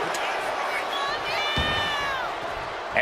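Arena crowd noise at a WWE 2K26 street fight in Chicago rises in a sustained roar of cheering, with commentary talk running over it and a brief thud near the middle.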